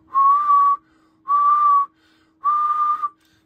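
Steady tonal whistling into a Yaesu FTDX10 transceiver microphone, transmitting into a dummy load: three sustained, even notes of about half a second each, loud and close, separated by short pauses, with no talking.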